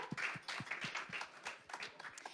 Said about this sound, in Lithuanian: Pasitikite plojimais.